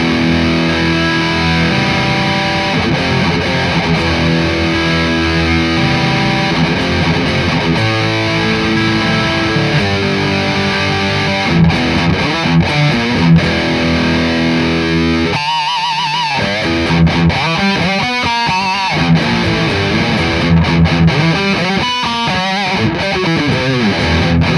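An electric guitar played through a Zoom TM-01 Tri Metal distortion pedal with no EQ adjustment gives loud, continuous, scooped and buzzy high-gain chords and riffs, with a brief choppy break midway and no talking.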